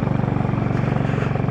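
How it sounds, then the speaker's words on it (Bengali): Helicopter climbing overhead in the high mountains of Arunachal Pradesh near Bumla, a loud steady rotor thump beating rapidly and evenly with a deep engine drone, close and continuous without talking. "হেলিকপ্টার উঠতেছে ওপরে,"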